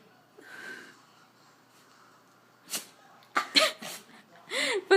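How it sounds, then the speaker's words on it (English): A dog repeatedly attempting to sneeze but managing only half sneezes: a few sharp snorting bursts and wheezy breaths, close and loud, following a quieter stretch with faint talk. "She can't sneeze and she keeps on doing the half thing."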